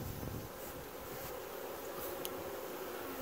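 Honeybees buzzing inside a closed car, a steady, continuous low drone filling the space with no talking.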